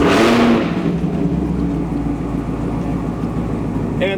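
A 6th-generation Chevrolet Camaro engine cranks and fires with a loud burst from its exhaust, then settles into a steady, rumbling idle close by.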